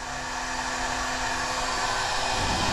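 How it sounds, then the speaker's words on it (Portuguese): CNC milling machine running with spindle on while the cutter travels to the part center, a steady broadband whir and hum that stays loud throughout. "a peça vai se movimentar, a fresa vai se movimentar para o centro da peça."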